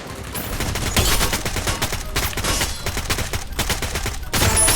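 Sustained bursts of rapid gunfire in the Free Fire video game, loud and close, rattling almost continuously with brief gaps between volleys and no one talking.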